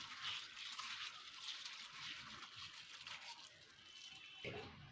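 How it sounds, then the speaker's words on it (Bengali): Ration rice being washed by hand in water, rubbed and swished to clean it, giving a steady close sloshing and trickling of water through the grains. "আমি কষলে কষলে ধুয়ে নিতে হবে চালটাকে"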